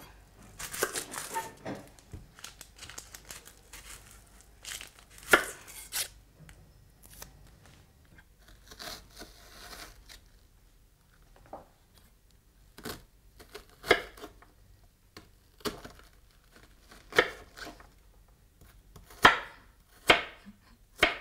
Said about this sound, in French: On coupera également en petits dés le fenouil, la carotte et la courgette.